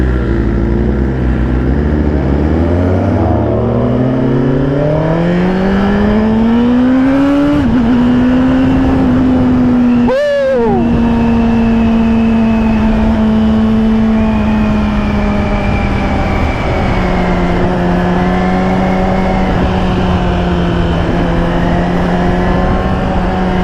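A 2022 Suzuki Gixxer 1000 motorcycle engine revving up hard and close, pitch climbing steadily, with a sharp throttle blip midway before settling into a loud sustained high idle.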